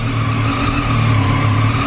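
A steady engine drone with a sustained high whistling tone on top, from a motorcycle's aftermarket Arrow exhaust running at a constant pace.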